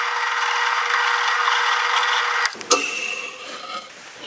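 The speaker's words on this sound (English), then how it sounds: "got those holes drilled" A drill press fitted with a brad point bit bores holes in wood, giving a steady, loud whirring hum that cuts off abruptly partway through, followed by a few quieter clunks and settling noises.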